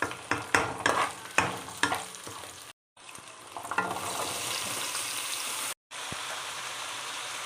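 Chickpeas are stirred and roasted with sliced green chillies in a pan, first with a run of sharp scraping stirs over the sizzle, then a softer steady frying hiss after two brief silent breaks.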